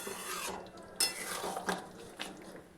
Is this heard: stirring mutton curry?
yes